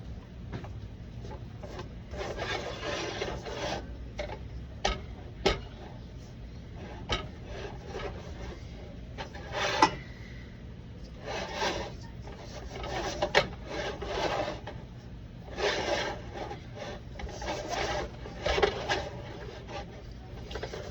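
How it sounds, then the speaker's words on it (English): Sourdough French bread dough being mixed in a bowl with a spatula: a close run of repeated soft scraping, sticky strokes in an uneven rhythm, with no talking. "I'm just trying to mix this until it forms a nice and shaggy dough for me"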